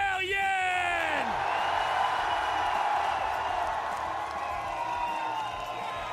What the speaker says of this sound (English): The crowd is hyped, as you can tell